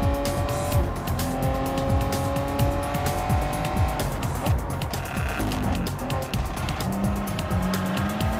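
A race car on worn tires brakes hard, its tires squealing in repeated sharp shrieks over a loud, revving engine drone that continues throughout.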